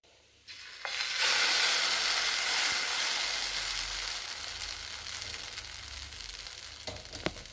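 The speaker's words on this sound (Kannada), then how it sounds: "ಪ್ಯಾನ್ ಕೇಕ್ ಥರ ಸ್ವಲ್ಪ ಹಾಕು. ಸ್ವಲ್ಪ ಪ್ಯಾನ್ ಬಿಸಿಯಾಗಿ" Wheat pancake batter hitting a hot pan breaks into a sudden loud sizzle that slowly settles into a steady hiss, ending with a sharp clink of a utensil.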